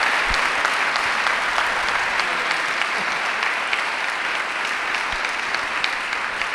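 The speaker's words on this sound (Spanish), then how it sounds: "Vamos a darle un aplauso." A church congregation applauds, giving dense, sustained clapping at an even level throughout, with no voices rising above it.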